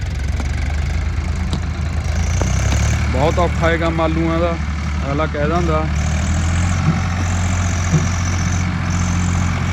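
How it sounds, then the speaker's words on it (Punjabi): A steady low tractor engine drone runs throughout, idling nearby on a farm field in rainy weather, while people talk over it. "ਮਾਰਦਾ ਟਰੈਕਟਰ ਛਾਲਾਂ"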